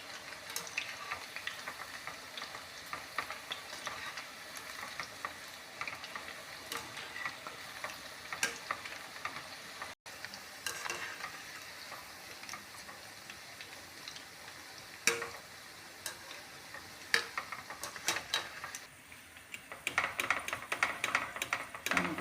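Pakoras sizzle and crackle in hot oil while being turned over, irregular ticking pops and clicks of frying with occasional sharper clatters of a utensil, close and fairly quiet.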